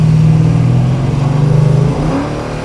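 A 1966 Plymouth Satellite with a 426 HEMI V8 accelerates at partial throttle, its deep engine note strong and steady up close, then rising in pitch near the end.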